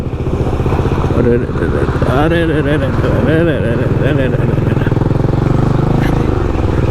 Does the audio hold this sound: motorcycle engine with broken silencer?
yes